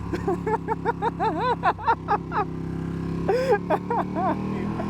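A naked, rebuilt 2016 Ducati Panigale whose wrecked bodywork was removed, revving close by in a rapid series of short, twitchy throttle blips that rise and fall over a steady idle.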